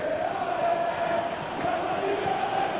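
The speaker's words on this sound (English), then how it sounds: "Crowd calling for him to shoot" A stadium crowd in a PS3 football video game roars steadily and evenly, urging a player to shoot, with a continuous wash of voices and no distinct peaks.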